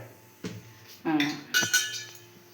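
A metal cooking vessel for making Pesaha appam is set down and handled, giving a few scattered clanks and clinks of pots and utensils, close by and moderately loud.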